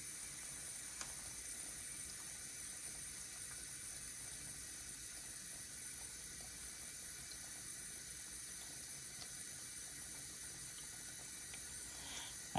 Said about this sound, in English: Can you hear the water? Now the water is running